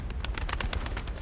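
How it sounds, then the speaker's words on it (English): Soft cooing of birds in an Indiana Jones video game, a short, steady murmuring call heard alone at moderate volume. "Birds."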